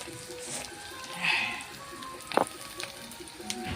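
Mustard seeds, urad dal, onion and green chilies sauté in a hot pan, giving a soft, steady sizzle and crackle with a few sharper pops, close by, with faint speech in the background.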